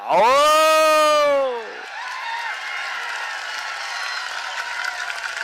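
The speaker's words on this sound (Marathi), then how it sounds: "टाळ्या टाळ्या टाळ्या" Crowd applause and cheering at a Maharashtra Kesari 2025 wrestling bout, opening with a loud, sustained tonal shout before a steady wash of clapping and crowd noise fills the rest.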